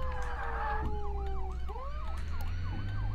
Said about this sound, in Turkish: Siren sesini nasıl kapatacağım bilmiyorum ki.